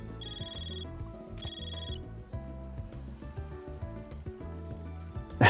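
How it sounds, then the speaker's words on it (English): A phone rings in the Trails through Daybreak video game, a repeating electronic ringtone in short bursts over background game music, with a louder noise at the very end. "My stupid phone."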